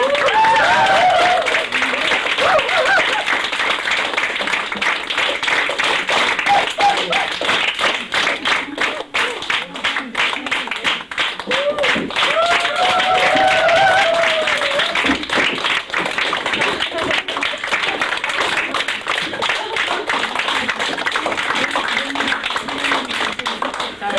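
A theatre crowd keeps up sustained clapping at the curtain call of a 1997 Agnes of God stage performance, a long unbroken wash of many hands with a few individual claps standing out, and murmured voices faintly beneath it.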